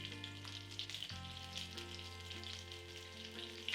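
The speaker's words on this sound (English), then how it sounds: "Now in the same oil, add cauliflower. Bring the heat all the way back on." Cauliflower fries in hot oil, a soft steady sizzle heard close but quiet, with a low continuous hum beneath it and no speech.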